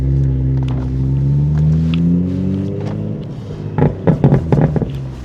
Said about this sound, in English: can get some sound clips of the Valvetronic exhaust if you haven't already heard it